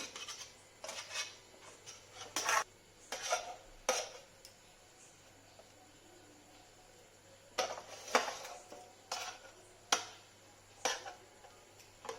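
A knife pats and scrapes a chicken cutlet into shape on a dish, making quiet, scattered clicks and taps in small clusters with long hushed gaps between them.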